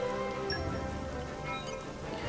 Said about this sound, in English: There's like puddles here because it's raining.